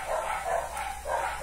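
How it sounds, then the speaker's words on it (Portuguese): Several dogs barking outdoors in the street, a quick run of muffled, mid-distance woofs in short bursts. "não liga os cachorros latindo"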